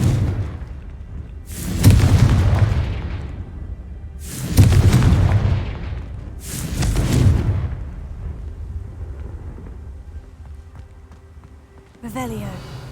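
Three heavy, booming blasts from the Confringo fire spell in Hogwarts Legacy, spaced a couple of seconds apart, each with a long rumbling tail, followed by a short crackling burst at the end.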